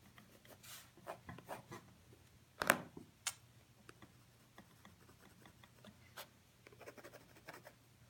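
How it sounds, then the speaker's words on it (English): A watercolor pencil shades a leaf in burnt umber over green, making soft, close scratchy strokes in short repeated bursts with one louder scrape midway, quiet and without speech. "For this leaf, we're going to shade the right side, adding a burnt umber on top of the green."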